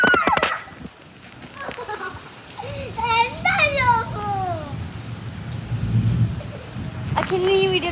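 Steady rain falls outdoors throughout, a constant hiss under children's high, lively voices calling and chattering nearby.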